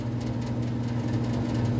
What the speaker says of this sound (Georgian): ძლივს ჩაირთო ბლოუერი